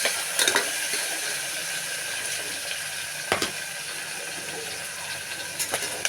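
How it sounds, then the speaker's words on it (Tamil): Mixed vegetables sauté in ghee for a veg biryani, giving a steady close sizzle and hiss throughout with a few brief clatters of stirring. "எல்லா காயும் போட்டு வதக்குவோம். காய் நல்லா வதங்கிட்டு இருக்கு."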